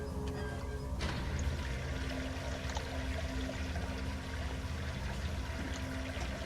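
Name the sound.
water draining in the video game Penumbra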